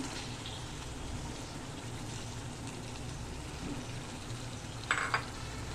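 Baim fish goes into a pan of cooked-down tomato masala over a steady background sizzle, with a short, sharper burst of hissing and clatter near the end.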